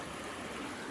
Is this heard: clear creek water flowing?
yes